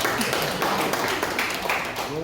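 An audience claps at a housing-quarters handover ceremony, a dense burst of hand claps that carries steadily through the moment, with background voices mixed underneath.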